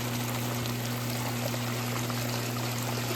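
A plug-in pond pump rated for up to 1,300 gallons per hour runs a mini highbanker, giving a steady stream of pouring water over a constant low electrical hum, fairly quiet and unbroken, with no one talking.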